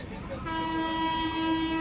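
A train runs along a railway loop line past a halt, giving a steady loud rumble with a sustained tonal horn or whistle that sets in partway through and holds.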